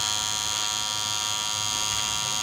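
Slimline Pro hair clippers reverse-fade hair, giving a steady, close electric buzz that holds unbroken for a couple of seconds with no talking.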